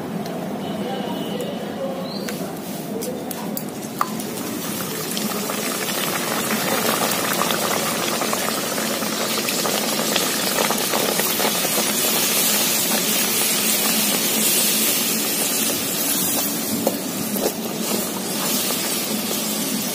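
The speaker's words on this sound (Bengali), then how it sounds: "এবার আমি ভেজে নেব।" Stuffed puris (radhaballavi) deep-frying in hot oil over a strongly burning stove make a loud, dense, steady hiss that swells after the first few seconds and stays continuous, with scattered crackles.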